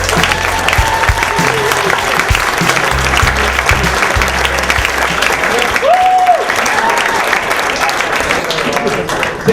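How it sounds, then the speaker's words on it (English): Audience applause for a comedian being brought onstage at a New York comedy show, a steady dense roar of clapping filling the room with a brief voice over it. "Clap for Kevin"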